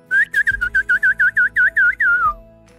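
Whistling imitates a bird in a rapid, close, loud string of about a dozen chirping notes, ending in a drawn-out falling tone, with nothing else heard.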